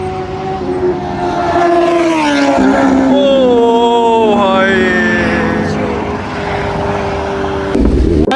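A motorcycle on a road ride from Firozpur to Ludhiana roars past close by, its engine note rising in pitch and then falling away over a steady, loud rumble of traffic and wind.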